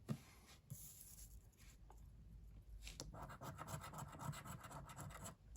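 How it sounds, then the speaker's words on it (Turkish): Scratch card being scraped, a close, continuous rasping with brisk repeated strokes that grow denser and louder over time. "bugün şu anda kartımızı kazıyorum arkadaşlar"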